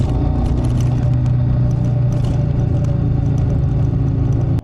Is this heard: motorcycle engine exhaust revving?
yes